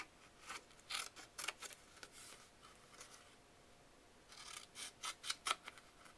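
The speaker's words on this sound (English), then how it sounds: "I'm going to cut those lines going up to the flap that's 2 inches up" Scissors cut through paper in two bursts of quick, crisp snips, close and faint, with a quiet pause between the runs of cutting.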